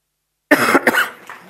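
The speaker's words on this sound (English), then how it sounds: "Didn't mean to cough into the microphone." A sudden loud cough close to the microphone after silence, a couple of harsh bursts trailing off into a throat-clearing rasp.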